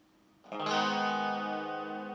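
Guitar through a prototype PT2399 echo IC delay pedal, with one sustained, bright, distorted chord entering sharply after a quiet start and ringing with a smeared echo tail.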